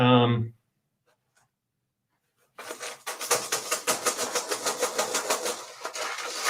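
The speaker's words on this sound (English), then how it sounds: "But first, let's shake these dice up." A handful of dice is shaken and rattled for a Bolt Action D-Day beach tabletop wargame, giving a rapid, rhythmic clatter of many small impacts that runs for several seconds close to the microphone, after a brief voice and a pause.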